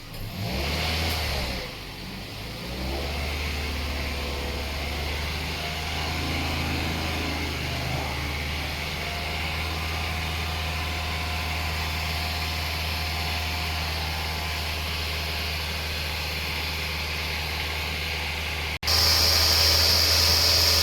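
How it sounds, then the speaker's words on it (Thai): A Toyota Vios car engine, 260,000 km on the clock and with a noisy air-conditioning compressor, is revved once and then holds a steady raised hum with a low drone beneath, ending in a sudden louder burst. "เร่งเครื่องเลยครับ"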